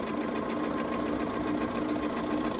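A sewing machine runs steadily and close up, sewing a seam along the long side of quilt triangle pieces, with a continuous even whir and no pauses.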